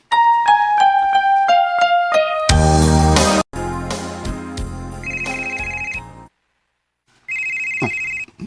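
An incoming call rings on a phone: a bright melodic ringtone of repeated descending tones, then a burst of a louder jingle, followed by beeping alert tones with a short silent gap, loud and close.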